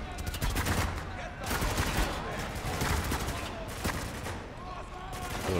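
Dense gunfire in the shooter video game Spec Ops: The Line, loud, rapid bursts of automatic fire and overlapping shots crackling almost nonstop, close up, with a voice talking underneath.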